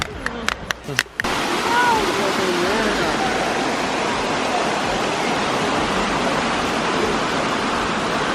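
Gozalandia Falls, a waterfall in Puerto Rico, roars as a loud, continuous broadband rush after a few brief knocks and clatters at the start.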